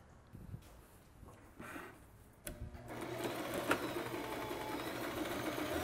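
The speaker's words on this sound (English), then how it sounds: "I'm just gonna stitch them with a 1/2 inch seam allowance on both sides." A sewing machine stitches a curtain lining seam after a few soft handling taps, then runs steadily as a close, continuous whirring hum with rapid needle clatter, and no talk.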